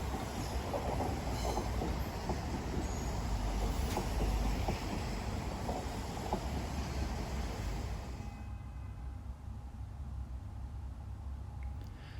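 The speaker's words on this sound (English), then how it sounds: "This one is a CR300AF Fuxin Hao rejuvenation train," A CR300AF Fuxing Hao electric multiple-unit train rolls past Shanghai railway station, heard from a bridge above. A loud, steady rush of wheels and carriages fills most of the clip, then fades quickly near the end.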